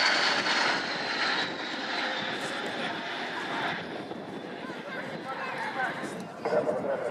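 Patrouille Águila aerobatic jets passing at over 300 knots during an air show, a loud roaring jet wash sweeping by overhead and fading slightly, steady and continuous without distinct breaks.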